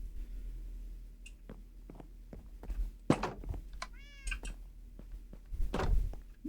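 Minecraft cat meowing in a blocky game world, several short rising-falling meows near and clear, scattered among soft thunks and footstep-like taps with no talk.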